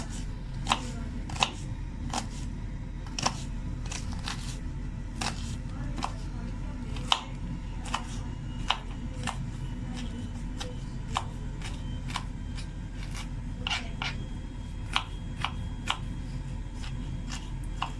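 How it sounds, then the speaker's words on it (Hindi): Knife finely chopping ginger on a board, sharp regular taps roughly every half second over a low steady room hum, close and clear, no talking. "अदरक को भी हम बारीक बारीक काट लेंगे।"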